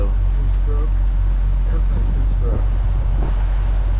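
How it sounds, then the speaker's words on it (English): Twin-engine two-stroke Sea-Doo jet boat running steadily on the Niagara River near Tonawanda, a continuous low rumbling drone heard from a passing boat, with people talking over it. "That's one of those twin-engine two-stroke Sea-Doos."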